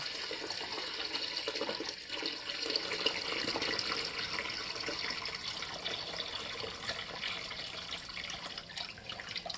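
Water gushing from a flushed household radiator, draining under system pressure into a bucket during radiator cleaning; a steady, close, continuous rushing flow with no voices.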